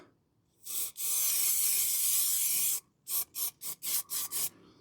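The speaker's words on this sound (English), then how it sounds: "the good thing about a spray as well is that it gets into all those nooks and crannies" A long steady hiss from an aerosol can of Jenolite rust converter sprayed on a Ford Focus Mk2 subframe, followed by six short, even spray bursts in quick succession, close to the microphone.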